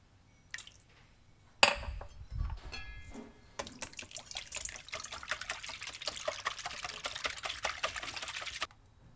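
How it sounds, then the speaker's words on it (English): Cooled dashi stock pours into a bowl of eggs for Osaka-style okonomiyaki batter, followed by a gentle, rapid whisking that clicks and splashes steadily for several seconds. "pour in the cooled dashi stock and gently whisk the eggs"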